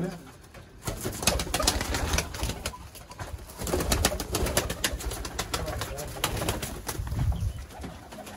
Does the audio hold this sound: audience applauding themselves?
no